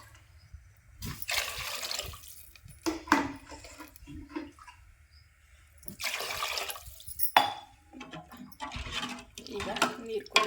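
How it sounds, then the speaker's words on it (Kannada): Water gushes in two main bursts into a cooking pot for a chapati dish, splashing up close, with a voice talking over and between the pours. "ನಾನು ಈಗ ನೀರು ಹಾಕೊಂಡ್ಬಿಡ್ತೀನಿ ರೀ"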